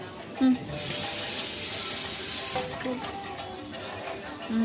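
Running water pours steadily into a sink as baby lima beans are rinsed beneath it, with a voice speaking briefly in Tamil in the background.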